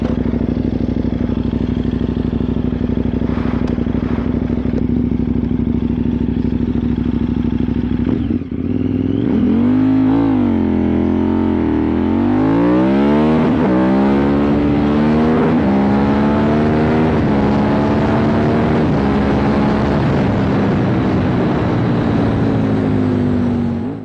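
A KTM 990 Superduke motorcycle idles with a low steady rumble, then launches from a standing start, its engine revving up through climbing pitch sweeps, loud and close, holding a strong roar to the end.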